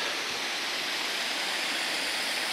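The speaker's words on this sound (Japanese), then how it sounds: "こういった感じ、滝です" Waterfall on a river among autumn foliage at Echigo-Yuzawa, a steady, dense rush of falling water, even and continuous throughout, moderately loud with no voices.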